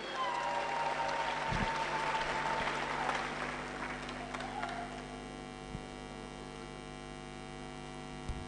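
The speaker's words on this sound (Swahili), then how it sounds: "Can we just clap while he's coming to take the stage?" A conference crowd claps steadily for a few seconds over a constant electrical hum, then the applause fades away, leaving the hum and a couple of faint thumps.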